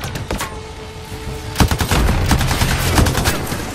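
Gunfire from goblin enemies in the video game Anthem crackles in dense, loud bursts of rapid shots, with a sharper volley partway through over a steady roar of battle noise.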